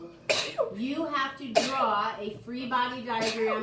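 In a classroom, a person sneezes sharply a few times over a teacher's ongoing speech, the bursts abrupt and close amid talking.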